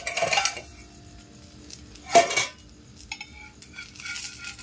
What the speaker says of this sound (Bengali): তো দেখুন আমি ঢাকনাটা তুলছি আর একবার